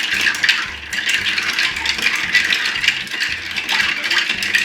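Continuous rattling and clinking of ice stirred in a mixing glass with an uneven inner surface, busy and steady, close up with no talking.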